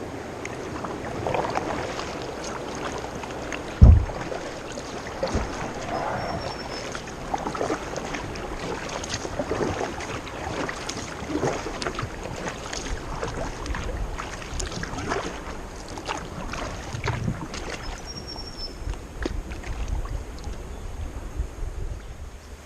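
Kayak paddling on Lake Gairdner, Tasmania: soft water swishes and drips from paddle strokes over steady wind noise, with one sharp knock early on, close to the microphone and without speech.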